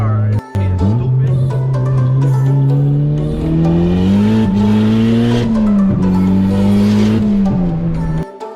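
A big turbo Honda Civic accelerates hard through the gears with little traction, a loud close engine note rising steadily, dipping briefly at each shift, then cutting off abruptly.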